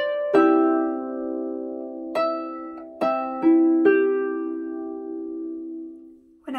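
Harp plucking a short arpeggiated section of Raglan Road, five or six ringing notes spaced about a second apart, each decaying slowly, close and alone with no talk.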